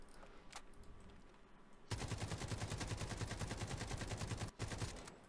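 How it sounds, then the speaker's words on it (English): Rapid sustained rifle fire in the Delta Force Hawk Ops shooter, a few seconds of loud, evenly spaced automatic shots in one continuous burst after a quieter start, with a brief break near the end. "We're going to shoot this again."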